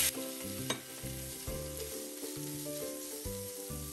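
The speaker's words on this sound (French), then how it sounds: "je renverse ensuite mes cubes de bœuf" Beef cubes fry with minced garlic in olive oil over medium heat, a steady sizzle with stirring and scraping noises, with music playing over it.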